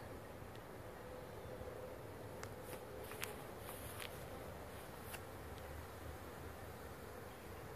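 A steady buzz of a honeybee swarm moving into a swarm trap, humming close by, continuous and dense, with faint scattered clicks and rustles over it.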